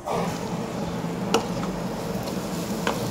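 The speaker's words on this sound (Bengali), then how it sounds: "তার জন্য গাজর, বিনস, ক্যাপসিকাম, কাজু, কিশমিশ সব গাওয়াকে দিয়ে ভেজে নিচ্ছিলাম" Carrots, beans, capsicum, cashews and raisins fry in ghee with a continuous soft hiss, broken by a few sharp taps of a utensil against the pan.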